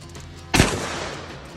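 A single sharp, loud gunshot from a Marlin 1895 Trapper lever-action rifle in .45-70, fired outdoors, with a short booming decay afterward and no talk.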